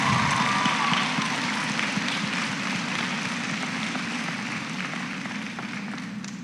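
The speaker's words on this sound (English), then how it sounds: "we give you, the parents, an applause in gratitude for your help" A crowd at a school graduation ceremony claps for the parents, a steady dense patter of applause that continues throughout and tapers slightly toward the end.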